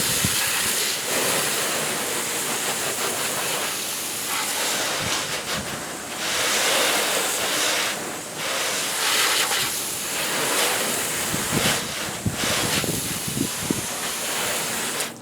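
Steady rush of water from a hose rinsing soap off a car under direct sunlight, a continuous broadband hiss with brief surges and splashy spikes as the spray shifts across the body panels.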